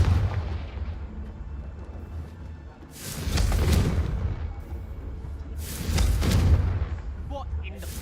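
Confringo blasting spells going off in Hogwarts Legacy: a rumbling backdrop broken by two big explosive booms a few seconds apart, each a loud burst with a deep, rolling tail.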